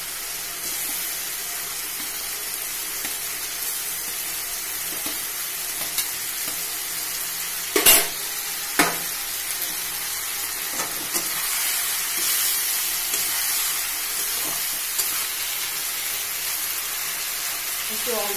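Green jackfruit and potatoes fry in a pan, making a steady close sizzle with crackle throughout, broken by a couple of sharp clattering hits of a utensil against the pan.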